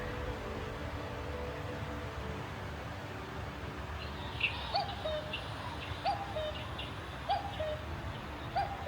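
Several short bird calls ring out at intervals over steady outdoor background noise along a hiking trail in Georgia, answering bird calls played from a phone, each call brief and moderately distant.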